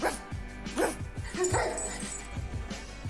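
A young woman imitates a dog with a run of short yappy barks and whimpering yips, close and fairly loud, several bursts spread evenly across a few seconds.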